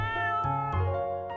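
A cat meowing in the video game Rakuen: a few short, close, tonal meows in quick succession with a small rise in pitch between them, no talking.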